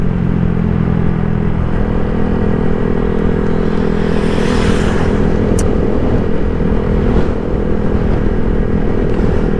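Motorcycle cruising on a rural road as the rider eases off the throttle, a continuous loud engine drone with wind rush, close and steady throughout.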